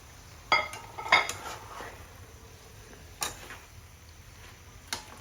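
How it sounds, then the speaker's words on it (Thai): Shrimp stir-fried with mixed vegetables and mushrooms in a pan, heard as a few sparse, quiet clinks and scrapes of a utensil against the pan over a low background hush, with no talking. "พอผักเห็ดเราใกล้จะสุกแล้ว เราก็ใส่กุ้งลงไปผัดอีกรอบหนึ่ง"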